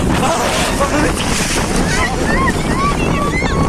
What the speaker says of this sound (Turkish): Rüzgar çok şu an.